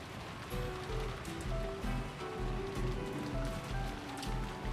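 Steady rain falls through the darkness in an even, continuous patter, with faint sustained tones lying underneath the wash of drops.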